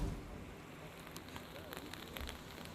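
Continuous rain falls during days of steady monsoon downpour in Tapi district, a soft, faint wash of hiss with scattered light taps and a few brief bumps, distant and low in level.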